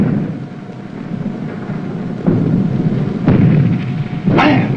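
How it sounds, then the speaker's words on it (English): Torpedo explosions strike a Japanese fleet in a World War II submarine TV drama, heard as a continuous low rumble with several sharp, booming bursts in quick succession, loud and close without speech. "Depth charges, my eye. Those are Darter's torpedoes."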